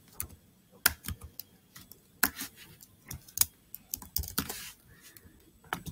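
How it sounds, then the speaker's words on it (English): Typing on a Chromebook keyboard, crisp close key clicks in uneven bursts and short pauses, fairly loud with no talking. "So I can type in my name over here. And I can type in the date."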